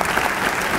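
Studio audience applauding the groom on a TV talk show, a dense, steady clapping that fills the whole short moment without a break.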